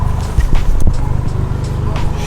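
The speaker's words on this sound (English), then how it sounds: "we're driving Daniel's Focus RS. Sounds nasty" A Ford Focus RS with full bolt-on upgrades and a carbon fiber intake drives along, its engine a steady loud growl with a brief surge near the middle.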